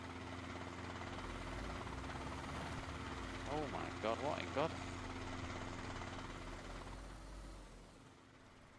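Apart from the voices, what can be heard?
helicopter flying overhead in DayZ video game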